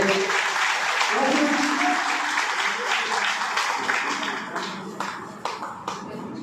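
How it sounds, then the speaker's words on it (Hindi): A crowd at a political rally in Jharkhand claps loudly to welcome a state party president, with sustained, dense applause that gradually thins and fades toward the end. "आप लोग जोरदार तालियों से एक बार स्वागत कर दें"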